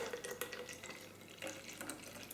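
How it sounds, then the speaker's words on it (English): Cold tap water pours steadily into a measuring jug, a continuous close splashing rush that stays even throughout with no voices. "Now I need 100 mils of cold water, so I'm going to actually top it up to 130"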